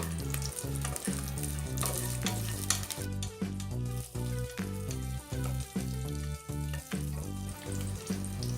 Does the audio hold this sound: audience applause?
no